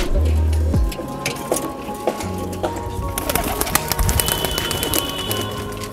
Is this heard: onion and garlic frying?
no